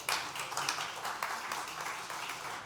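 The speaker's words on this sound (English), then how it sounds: "A round of applause for Christine, please." A conference audience claps for a guest on stage at South Summit 2021, a faint, steady patter of applause that carries on for a few seconds.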